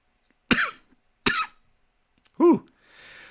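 Three sharp, separate coughs from one person, close and loud with short pauses between them, the last one more voiced, followed by a soft breathy exhale.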